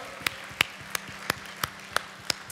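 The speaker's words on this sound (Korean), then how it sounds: "우리 하나님께 우리 영광의 박수 올려드립시다" Slow, evenly spaced single claps, about three per second, ring out in a church as the congregation gives glory to God, each one sharp against a quiet room.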